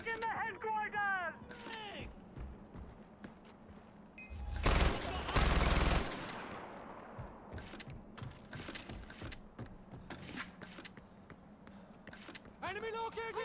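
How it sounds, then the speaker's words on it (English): Machine gun fire in the video game Far Cry 4 erupts in a loud sustained burst midway, surrounded by quieter game effects, clicks and mechanical sounds, with a voice speaking at times. "Where'd that gunfire come from?"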